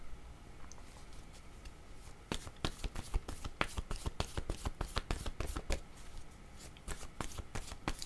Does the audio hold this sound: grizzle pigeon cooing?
no